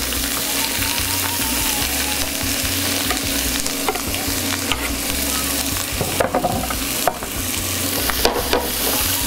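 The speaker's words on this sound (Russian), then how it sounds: "Сковорода разогрелась. Забрасываем овощи." Vegetables fry in a preheated pan for Thai-style noodles, giving a loud, continuous close sizzle with occasional scraping and clatter from stirring, and no talk.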